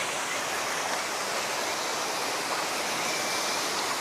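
Steady, dense roar of Ambon Falls in Talisay, Batangas, Philippines, broadband and constant throughout, with no pauses or other sounds.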